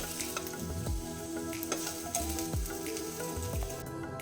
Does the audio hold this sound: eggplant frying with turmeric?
yes